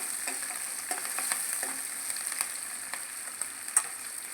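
Green chillies and other ingredients fry in hot oil for an idli upma, giving a faint, steady sizzle with scattered small crackles and pops, one slightly louder near the end.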